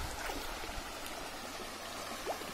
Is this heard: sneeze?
no